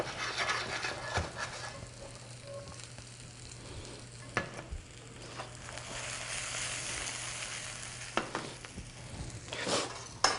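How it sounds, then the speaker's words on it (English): Parboiled potatoes with garlic and onions sautéing in a pan, a low continuous sizzle broken by occasional scrapes and knocks of a utensil stirring. "I'm going to saute them in here as well"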